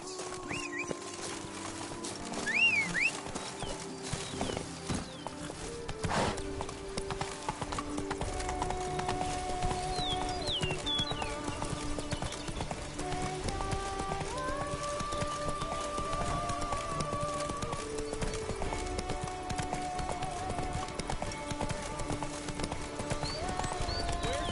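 Roach gallops in The Witcher 3: Blood and Wine, hooves pounding in a fast, continuous rhythm beneath game music, with a few neighs and occasional bird calls.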